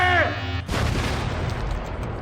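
Laser beams fired from a character's eyes in a GTA V cartoon: a brief voice at the start gives way to a sudden, loud, booming blast that rumbles on and slowly decays.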